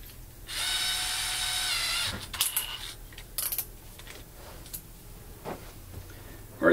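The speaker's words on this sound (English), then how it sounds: "when you're drilling through this, it's going to leave these little shards of plastic" A power drill with a 1/8 inch bit bores through plastic in a loud two-second whir, followed by scattered clicks and clatter of handling the piece.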